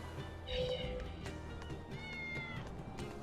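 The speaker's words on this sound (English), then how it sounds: "Why are there so many cats here?" Cats in the video game Tales of Berseria give a few soft meows at intervals, heard faintly among quiet game background sounds.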